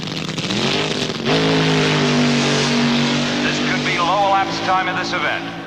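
A 1971-era drag racing car revs hard and launches from the starting line, a loud, sustained engine roar with rising pitch changes throughout, mixed with background crowd or announcer-like voices.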